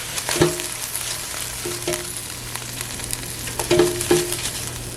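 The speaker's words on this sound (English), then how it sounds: "Let's check on our salmon. That's cooking really nice. We're gonna shake it." Salmon frying in a pan, a steady close sizzle broken by a few sharp rattling bursts as the pan is shaken, with no voices.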